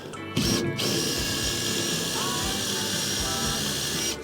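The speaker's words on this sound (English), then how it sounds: "it's just had to drill a pilot hole because this one doesn't want to go in" A power drill whirs steadily at close range throughout, drilling a pilot hole, with a couple of brief clicks near the start and faint mechanical noise underneath.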